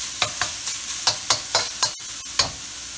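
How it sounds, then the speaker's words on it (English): Pork stirred and fried in a pan gives a run of sharp spatula scrapes and clacks at an irregular beat over a steady sizzle, close and fairly loud, with no voices. "Pork goes in. Just stir it for a couple of minutes."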